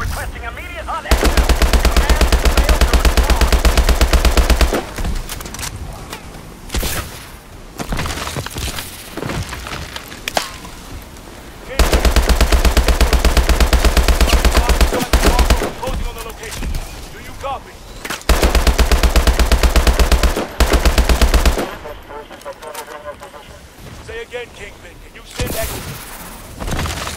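Call of Duty Advanced Warfare combat: sustained loud bursts of automatic gunfire and heavy explosions in several long waves, with shouted radio dialogue between and under the shooting.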